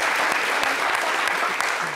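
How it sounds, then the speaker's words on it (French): A crowd claps loudly and steadily, a dense and close burst of applause with a few sharper individual claps standing out. "On l'applaudit quand même"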